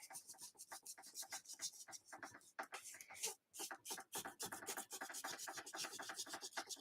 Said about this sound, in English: if I use a gum eraser first, it can more gently just pull that stuff off